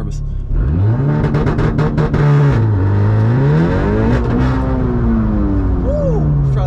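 Tuned VW MK7 Golf R with a manual gearbox launching hard in first gear, engine revving up loud and close with rising pitch, shift pops and a steady high-revving pull to the end.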